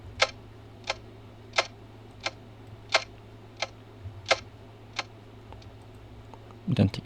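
Clock ticking used in a music track, about ten crisp evenly spaced ticks roughly every two-thirds of a second over a low steady hum, followed by a brief burst of a voice at the end.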